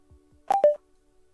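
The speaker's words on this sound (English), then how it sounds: "I get a notification on my phone every time I get a cyber capture." A two-tone electronic chime from a phone, signalling a cyber capture in sneaker-botting software: two short bright beeps in quick succession, the second slightly lower, clear and close over near silence.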